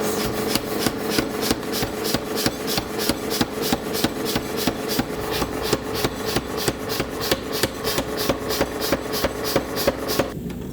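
An axe head is hammered between profiled shaping dies in a forge, giving rapid, regular ringing blows, about four a second, loud and close over a steady background engine hum.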